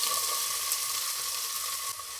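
Fennel and onion sautéing in two tablespoons of oil give off a steady, dense sizzle that stays even and close throughout, with no voices.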